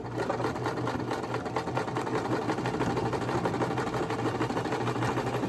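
A sewing machine runs slowly across a thick edge of a dish drying mat, stitching a French seam with a continuous, even, close mechanical whirr and no talk.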